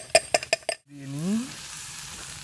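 Chopped onions tipped into hot oil for a chicken curry, a few sharp clinks at first, then a steady loud sizzle and frying hiss close by, no talking.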